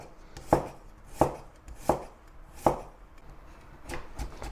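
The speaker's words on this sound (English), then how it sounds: "To get it started, chop some garlic" Garlic being chopped with a knife on a board: four crisp, evenly spaced close knocks followed by a couple of softer taps, with no talking.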